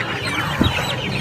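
Chickens clucking at a weekly village market in Vadalur, a single short cluck standing out briefly from the steady hubbub of the market crowd.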